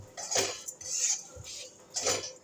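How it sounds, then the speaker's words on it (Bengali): Semolina and sugar stirred in a pan, a spoon scraping and knocking against the metal in a few slow strokes, close and fairly quiet with no talk. "এই যে নাড়াচাড়া করছি, এর মধ্যেই চিনিটা একটু গলতে আরম্ভ করবে।"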